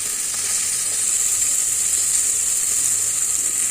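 Onions and tomatoes with fennel seeds frying in hot oil in a pan, giving a steady, close, even sizzle that runs without a break and with no voices.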